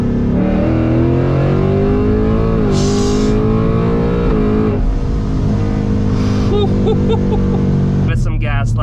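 An 800 hp supercharged S650 Mustang GT pulls hard in third gear, its engine note rising continuously with loud interior roar, and a short burst of higher whine and clatter near the end.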